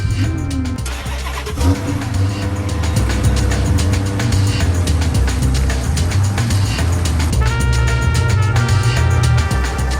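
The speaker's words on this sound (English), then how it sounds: "So we're going to pull the Charger into the garage" A Hemi Dodge Charger engine rumbles steadily up close as the car pulls into a garage, a loud continuous low drone with a brief surge early on and no talking.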